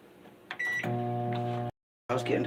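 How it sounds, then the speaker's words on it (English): A microwave oven with a rotary dial runs with a steady close electric hum after a short high tone, then cuts off abruptly before brief clattering noise resumes. "And I've got my microwave with a rotary dial on it."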